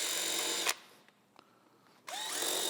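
A power drill spins a bit through a punctured tire, reaming the hole in a loud whirring burst, pausing briefly with faint clicks, then starting up again loud and close.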